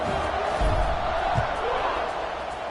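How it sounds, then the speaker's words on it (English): Video game stadium crowd in College Football 26 keeps up a loud, steady buzz of cheering and murmur, with commentary over it and a couple of low thumps. "this crowd is buzzing after that last score"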